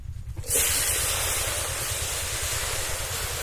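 Freshly washed cabbage tipped into a hot pan on a lit stove, setting off a sudden loud sizzling hiss that holds steady after a short quiet start.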